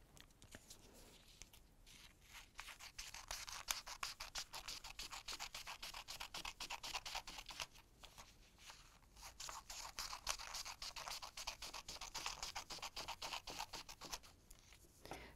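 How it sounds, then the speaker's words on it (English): Scissors slicing strips of A4 paper for a hoop glider craft, a steady rasping, scratchy cutting that runs almost continuously at close range, with a couple of short pauses between cuts. "then you're going to cut those strips out using the scissors"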